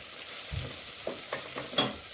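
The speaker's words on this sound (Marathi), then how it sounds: "एक कांदा बारीक चिरून घेतला आहे तो घालूया कांदा ना गुलाबी रंगावर परतून घेऊया" Finely chopped onion sautéing in a pan, a faint hiss with a few soft stirring scrapes over a couple of seconds.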